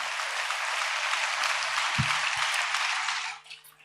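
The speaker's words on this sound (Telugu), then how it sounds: "చప్పట్లు కొడుతూ ప్రభుకి స్తోత్రాలు చెప్దాం" A church congregation claps hands together in praise during a sermon, a dense, sustained burst of applause from a large crowd that fills the room and then quickly dies away near the end.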